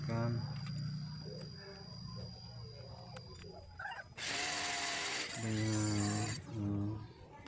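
A drill with a larger bit runs in loud bursts that rise and stop, widening a hole for a sliding door, with someone speaking between and under the whirring.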